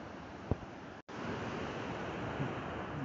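A waterfall in Western Oregon gives off a steady, faint broadband roar from some distance, with a brief gap in the sound partway through and no speech.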